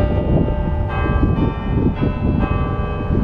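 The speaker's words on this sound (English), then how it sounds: "the bells of the church just went off, signaling that it is 3 o'clock in the afternoon" Bells of Christ Church Cathedral in downtown Fredericton ring for three o'clock in the afternoon, loud sustained tolling with fresh strikes about every second and a half over low street rumble.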